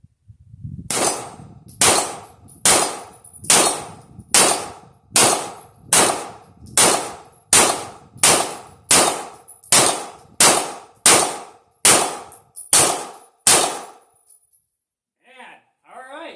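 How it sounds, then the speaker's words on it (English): RIA 1911 A2 TACT 9mm pistol, a Para-Ordnance-style 2011 clone, firing 115 grain full metal jacket ball rounds: about fifteen sharp, loud shots in a steady, evenly spaced string, each ringing briefly, then quiet with faint noises. "So I was shooting a 115 grain full metal jacket, just ball ammunition"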